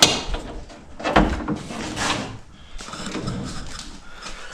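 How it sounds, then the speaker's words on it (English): A car door on a Honda Civic ute opens with a single clunk and a short rattle, close by, followed by faint handling noises in a quiet space. "Let me open the door."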